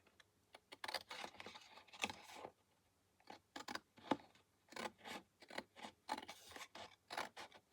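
Scissors snipping paper while making a small handmade mini book, with a series of short, crisp cuts coming in quick bursts and brief pauses, close and quiet with no talking.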